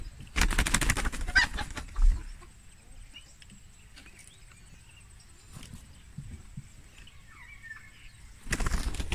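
A chicken flaps its wings hard in loud bursts at the start and again at the end after being thrown. Quieter rustling and scuffling fill the middle, with faint outdoor background noise.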